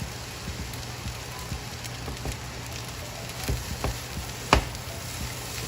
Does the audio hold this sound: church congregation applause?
no